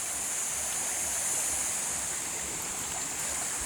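A river flows steadily right beside a cornfield, giving a continuous broad rushing wash of water that stays even and fairly loud throughout, with no voices.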